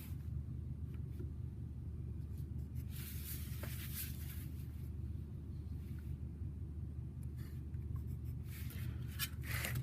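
Steady scratchy strokes of a 2H pencil drawing straight lines across paper, laid over a constant low hum, with short brighter bursts where the lead drags harder.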